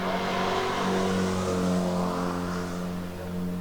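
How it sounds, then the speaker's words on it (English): An MG race car engine drones loudly and steadily at close range trackside at Oulton Park, its pitch holding high as it runs past, with no voices over it. "Car number 72, Robert Fisher, in the red soft top. He's just come through."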